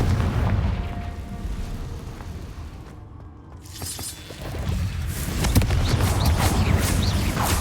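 A Confringo blast spell in the video game Hogwarts Legacy erupts as a booming explosion after a brief near-silent gap, followed by loud, sustained crackling and debris-like bursts.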